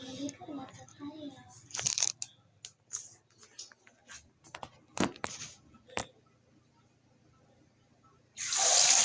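Water running for a bath comes in as a loud, steady gush at the very end, after a stretch of quiet talking, clicks and rustling handling noises.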